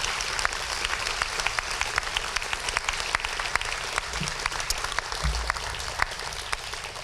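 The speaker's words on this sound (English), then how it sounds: "So if we'd have a round of applause for all of our sponsors." An audience at a high school awards night in a fine arts theater applauds its sponsors, with steady, dense clapping filling the whole stretch at an even level and a few sharper claps standing out.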